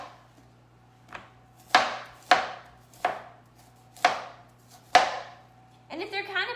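A knife chops through a head of cauliflower on a cutting board, six or so crisp, close cuts at an uneven pace, followed by a faint voice at the end.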